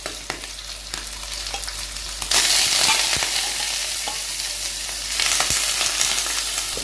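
Meat being lowered into a hot pan of butter sizzles loudly and steadily up close, with the frying growing stronger as more pieces go in and occasional stirring scrapes.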